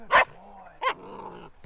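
A Karelian Bear Dog trained for the National Park Service barks twice, two sharp close barks spaced under a second apart, with a short soft whine between and a faint yip at the end.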